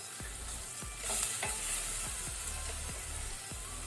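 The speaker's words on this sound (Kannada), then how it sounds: "ಫ್ಲೇಮ್ ಮೀಡಿಯಂ ಅಲ್ಲಿ ಇಟ್ಕೊಂಡು ಫ್ರೈ ಮಾಡಿ" Tomato masala for prawn curry fries in a pan over a medium flame, a steady sizzle broken by repeated scraping strokes of a spoon stirring through it, close and alone.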